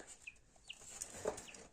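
Newly hatched chicks in a 72-egg incubator give a few thin, high peeps spaced across a quiet stretch, fairly close but soft.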